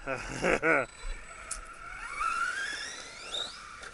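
An Arrma Big Rock BLX 3S RC car holds full throttle through a jump: a rising electric motor whine climbs in pitch with rising tones, after a burst of speech at the start.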